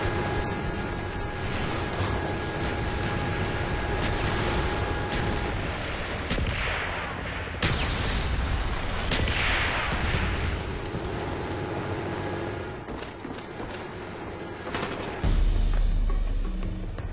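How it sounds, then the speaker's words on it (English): A mortar artillery barrage in Call of Duty Black Ops rolls on continuously, dense booms and blasts layered into a loud, sustained rumble with a few sharper impacts standing out. "Mortar team standing by. Mortar coordinates received."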